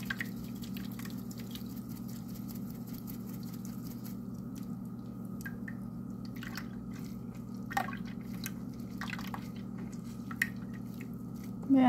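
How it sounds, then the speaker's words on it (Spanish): Blended fresh corn mixture for atole drips and trickles through a kitchen strainer, with soft intermittent patters and small splashes at close range and no talk. "Y vamos a estar pasando por un colador nuestra mezcla."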